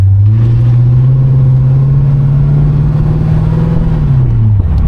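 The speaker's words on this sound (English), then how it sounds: "I'm gonna give it a little gas" A close, loud V8 engine of a 1969 Pontiac LeMans convertible hums and climbs gently in pitch under light throttle, then eases back down near the end.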